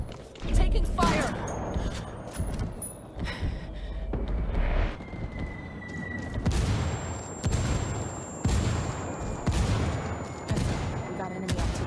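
Bursts of gunfire and explosions in the multiplayer shooter video game Ghost War, 4 versus 4, with repeated volleys and booming impacts over a dense battle bed; voices talk over the combat at times.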